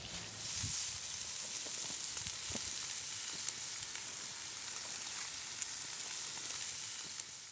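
Bacon fries in a pan, a steady, fairly quiet sizzle with fine crackling pops throughout and no voices.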